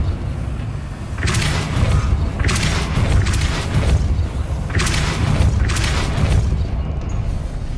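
The Depulso spell goes off in a Harry Potter wizarding-world video game with a series of deep, rumbling whooshes. Five or so bursts roll through, each a second or two apart, over a steady ambient game background.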